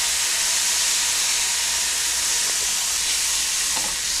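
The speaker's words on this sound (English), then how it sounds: "I will come in with a little bit of soy sauce" Soy sauce and garlic powder sizzling steadily in a hot pan, a loud, even hiss close by that holds for the whole stretch with faint clinks underneath.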